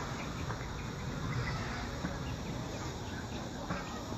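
Honey bees at a hive nursery holding many new colonies make a dense, continuous buzzing drone. The swarm of insect hum is loud and steady throughout, with no speech.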